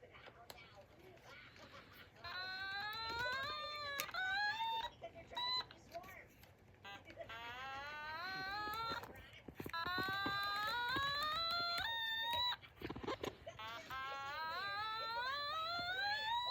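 Fire alarm tones imitated on an Otamatone, a run of rising and falling electronic whoops and sweeping siren-like glides, loud and continuous with brief gaps.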